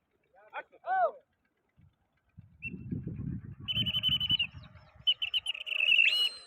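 Pigeon calls, a few short bird notes early on, then sustained chirping over a noisy low rumble of voices or movement, fairly close and moderately loud, at a pigeon-flying contest.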